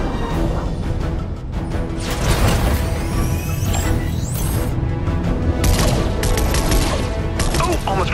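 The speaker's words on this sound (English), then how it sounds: "I was hoping we'd have an excuse to try out the Battle Bus's laser cannons." Battle Bus laser cannons in Fortnite fire rapid bursts at attack drones, with dense zapping shots, crashes and mechanical clatter layered loudly throughout.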